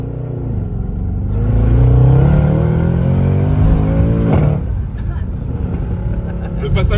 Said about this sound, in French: Le passage de rapport est dingue.